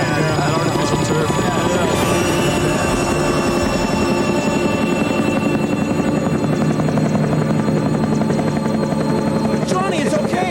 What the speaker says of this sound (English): It's just a traffic helicopter, man.